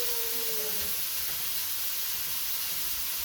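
Bacon sizzles and crackles steadily in a hot frying pan as it crisps, a dense close hiss filling the clip with no talking over it.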